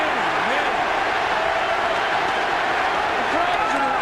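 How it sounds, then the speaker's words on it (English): Boxing arena crowd roaring in a frenzy during a late round of the Pacquiao vs Margarito fight, a dense continuous wall of cheering under commentators' talk. "The crowd is in an absolute frenzy."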